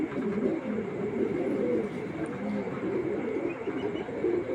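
A female racing pigeon, big-sized with silver eyes, coos continuously in low, throaty rolling phrases that carry close and steady through the clip.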